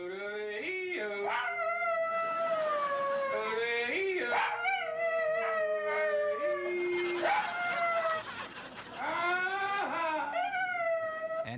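A dog howls in long, wavering, yodel-like rising and falling notes, repeated in several drawn-out phrases, close and fairly loud.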